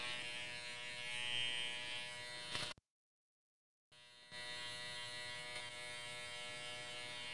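An electric hair clipper trims hair at the nape of a man's neck, a steady close buzzing hum that stops for about a second and then resumes, with no talk.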